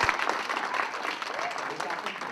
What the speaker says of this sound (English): if we give a round of applause to Mary and the folks.